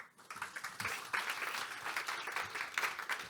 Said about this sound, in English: So please give a warm applause to Professor Adrian Perrig